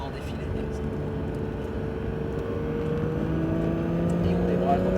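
A Porsche GT3 accelerating out of a corner on a track, its engine droning loudly and steadily with rising pitch as it pulls onto the straight, heard from inside the car.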